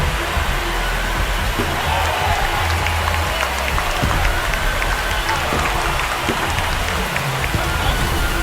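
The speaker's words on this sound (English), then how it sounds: "This crowd has really come alive. This place is loud." A large baseball stadium crowd roaring and applauding after a home run at an Angels versus Orioles game, a dense, sustained wash of cheering and clapping that stays loud throughout.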